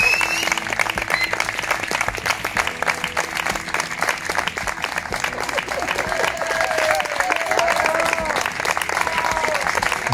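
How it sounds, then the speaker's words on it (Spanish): Sustained, dense applause from an audience at a school end-of-year party, steady and fairly loud for the full ten seconds with no speech over it. "doy un aplauso mucho más fuerte para él."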